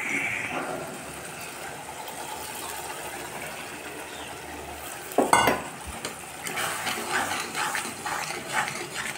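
Mustard paste frying in a pan alongside softened tomatoes and onions, a soft continuous sizzle broken by one loud scraping stir midway, then livelier sputtering afterward.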